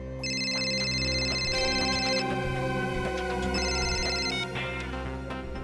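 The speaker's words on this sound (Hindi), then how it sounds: "किसका फोन था? काट तो दिया, उठाना चाहिए था ना।" A telephone rings in a CID crime-drama scene: bursts of a bright, repeating electronic trill come and go over a steady tonal background, loud and close, with no talking.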